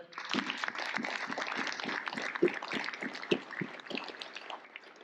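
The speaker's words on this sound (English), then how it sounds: "So he deserves a special round of applause." A conference audience applauds Brad Rhodes, the event's founder, during welcoming remarks at HammerCon 2023, a security convention. Dense, steady clapping fills the room for the whole stretch, with a few sharper individual claps standing out.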